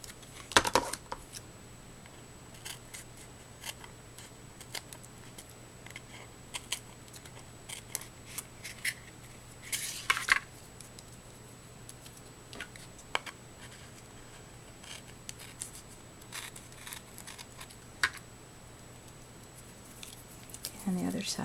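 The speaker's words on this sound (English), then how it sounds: "So let's go ahead and trim this off." Scissors snip through material while crafting a sandal trinket box, sharp scattered cuts over a quiet room hum, with soft talk in between.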